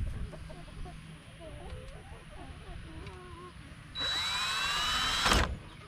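A power drill drives screws into cracked wood, a loud whirring burst near the end rising briefly then cutting off, after a stretch of ambient noise with faint chirping and low background hum.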